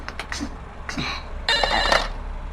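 A telephone rings in a mansion setting with short bursts of electronic ringing, first a few quick chirps and then a longer, louder ring, with no one speaking over it.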